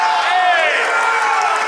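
A wrestling arena crowd roars and cheers in one continuous loud wave, with shouting voices blending into a sustained collective din.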